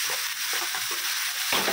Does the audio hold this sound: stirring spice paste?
yes